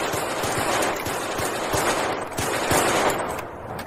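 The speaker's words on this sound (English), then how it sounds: "Reports of gunfire?" Rapid bursts of gunfire crackle densely and loudly throughout, with sharp repeated reports over a continuous roar, sounding like a chaotic fusillade with no speech.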